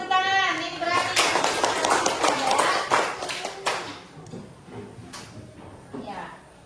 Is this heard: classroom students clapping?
yes